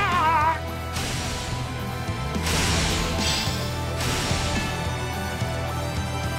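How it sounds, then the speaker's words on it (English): Lightning crashes across a battlefield in Fire Emblem Warriors: Three Hopes, heard as a dense, roaring crackle that swells and rumbles in repeated loud bursts over game music, with no talk. "Now, send your lightning crashing across the battlefield."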